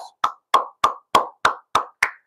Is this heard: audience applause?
yes